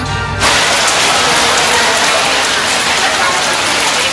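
Heavy rain pours down in a steady, loud, dense wash that begins abruptly after a brief moment and continues unbroken throughout, with no talking.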